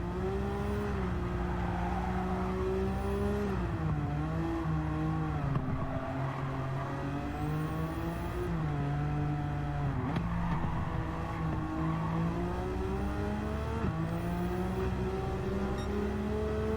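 Nissan GT-R race car with high-RPM turbo and engine restrictor in Gran Turismo 7, a steady loud engine drone with rising and falling revs through gear changes, continuous throughout with no talk.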